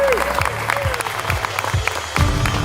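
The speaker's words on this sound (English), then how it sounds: "One more round of applause." An audience at a Sri Lanka Day program gives a round of applause, a brief burst of fairly close clapping with a few heavy thumps and a short whistle-like squeal near the start.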